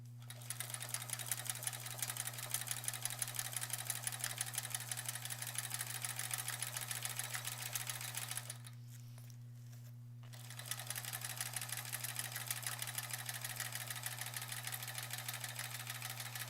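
A sewing machine running free motion quilting, a close, continuous rapid stitching whir over a steady low electrical hum, with a brief pause midway before stitching resumes.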